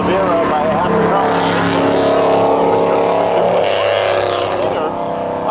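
Race cars at Seekonk Speedway roar off the corner in a loud, continuous engine drone with shifting pitch, a track announcer talking over the noise throughout.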